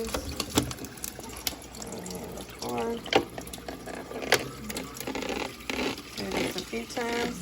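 Water running from a kitchen tap into a filling pot during holiday dinner cooking, a soft steady splash with clinks and handling noises and people speaking over it.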